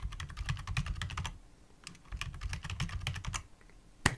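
Typing on a computer keyboard while entering a password during a FreeBSD and Arch Linux setup, two close bursts of rapid key taps separated by a short pause, ending with one sharp louder keystroke.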